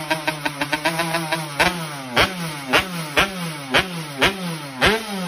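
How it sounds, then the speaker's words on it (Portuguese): A Yamaha RD 135 two-stroke motorcycle engine revs repeatedly, first in quick short blips and then in slower, louder regular surges, each rev rising and falling in pitch with a raspy, buzzing tone, close up and without talk. "o som característico fez sua fama durante os anos 80 e 90 devido ao seu motor dois tempos"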